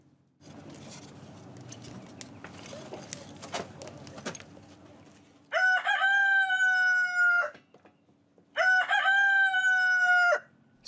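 Poultry aboard a sailing boat at Tulear, Madagascar: a rooster crows twice, loud and close, each call long and drawn out, after several seconds of faint scratching and rustling clucks.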